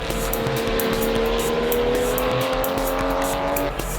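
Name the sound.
race car driving at speed in Super Taikyu race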